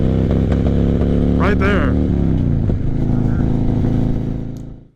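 A motorcycle with a badly tuned carburetor runs loud and close, its engine note wavering and dipping unevenly before fading out, while a rider speaks briefly over it.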